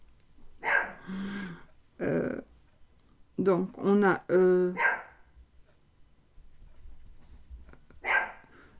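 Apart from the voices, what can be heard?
dog barking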